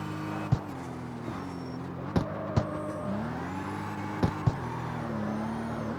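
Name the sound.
BMW M2 drift car engine in CarX Street video game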